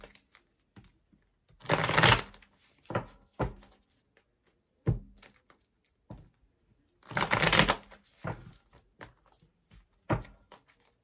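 Tarot cards shuffled by hand up close, two main bursts of brisk riffling separated by a pause, with scattered light taps and card handling in between; no voices.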